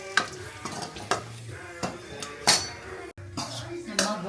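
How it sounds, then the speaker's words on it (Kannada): Cashews and raisins frying in ghee in a pan, with a metal spoon stirring and clinking against the pan in repeated knocks over a soft sizzle. "ಗೋಡಂಬಿನೂ ಮತ್ತು ದ್ರಾಕ್ಷಿನೂ ತುಪ್ಪದಲ್ಲಿ ಹುರಿದು ಹಾಕೋತಾ ಇದ್ದೀನಿ"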